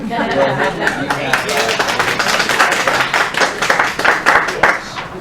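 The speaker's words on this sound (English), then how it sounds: "And clap for her." People at a village council and planning board meeting clap briefly for a speaker, a sparse scattering of distinct hand claps close by, mixed with chatter and light laughter.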